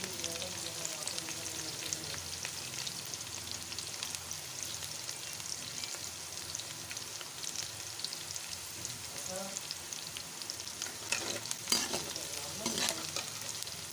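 Onions fry in a pan, giving a steady hiss and fine popping crackle throughout, with occasional stirring scrapes and a slightly louder burst near the end.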